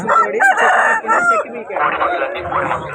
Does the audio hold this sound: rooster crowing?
yes